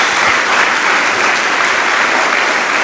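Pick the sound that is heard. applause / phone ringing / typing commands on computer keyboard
applause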